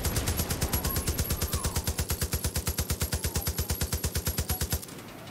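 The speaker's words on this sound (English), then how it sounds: "Sniper rifle, maybe?" Rapid, evenly spaced gunfire repeats about ten times a second for nearly five seconds in Far Cry: New Dawn, steady and moderately loud, then stops abruptly. No one speaks over it.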